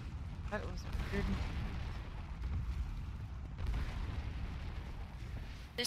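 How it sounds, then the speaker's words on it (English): Rapid firecracker-like pops and bursts from a video game battle, a siege from two sides, crackle on and off across the whole stretch over a steady low rumble while a person talks over them. "There's all these firecracker sounds going off."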